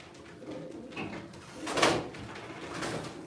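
Pigeons coo softly in a loft at an Ankara game-bird auction, a few low murmuring calls rising and falling over a faint background.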